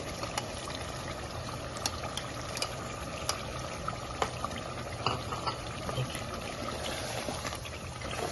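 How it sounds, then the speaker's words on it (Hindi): Water is poured into a cup of thick yogurt to thin it for a food-street-style chicken karahi, a continuous wet trickle and splash running for several seconds with small clinks and taps scattered through it, no talking. "इसमें हम पानी ऐड करके इसको पतला देंगे।"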